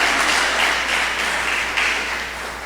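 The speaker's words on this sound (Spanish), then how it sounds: "Dale un aplauso al Señor." A church congregation claps for the Lord in a steady, dense wash of applause that holds through the whole passage, with no voices over it.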